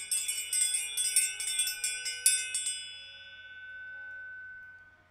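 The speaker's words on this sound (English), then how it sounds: "As you hear my bell ring" A high, bright meditation bell is struck in a quick series of tinkling strikes, then a sustained shimmering ring slowly fades to silence.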